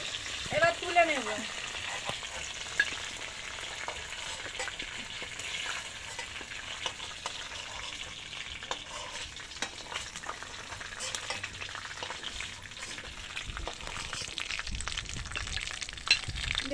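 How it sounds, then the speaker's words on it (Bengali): Chicken fries in a pan, a soft continuous sizzle with scattered crackles and occasional stirring scrapes, fairly faint and steady throughout. "চিকেনটাকে আমি লাল করে ভেজে নিয়েছি, এবার তুলে নেব।"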